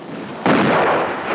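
Shotgun fired once at skeet targets, a single sharp loud blast about half a second in that decays into a broad lingering roar, with a quieter outdoor background before it.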